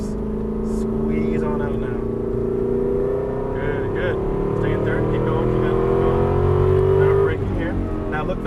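An Aston Martin V8 Vantage accelerates hard on a Las Vegas race track, its engine drone rising steadily in pitch as it pulls through the gears, loud and close throughout, with a driving instructor talking over it.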